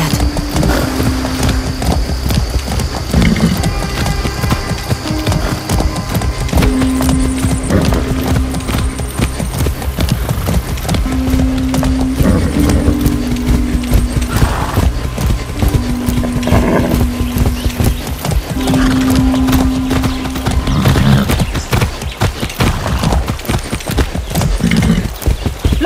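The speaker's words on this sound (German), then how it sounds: "So ein braves Pferd." Steady horse hoofbeats clip-clop at a walking rhythm for a long stretch in Far Cry 6, with occasional tonal game sounds and faint background noise.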